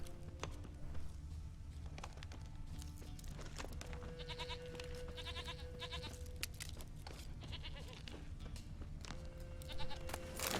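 A goat bleats in The Witcher 3: Wild Hunt, several short wavering calls spread across a steady outdoor ambience with faint footsteps and other game sounds.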